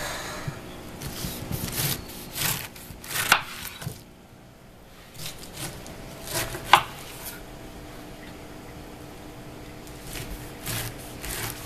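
A knife slicing the spiny skin off a pineapple, a few sharp scraping cuts and rubbing strokes with quiet pauses between them, close and fairly soft.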